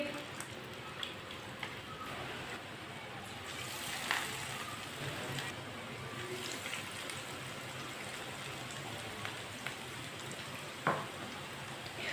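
Egg-dipped bread for an omelette sandwich fries on a low flame, making a continuous soft, even sizzle with faint crackles and an occasional light clink.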